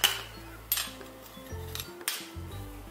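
A utensil stirs a cold soup of cucumber and melon in a bowl, giving a few sharp clinks and scrapes against the dish, fairly quiet, with soft tonal background sound underneath.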